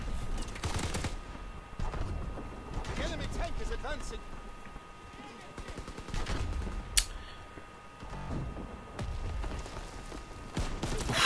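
Call of Duty WW2 video game gunfire comes in scattered bursts and volleys of shots amid battle noise, with a voice talking between them.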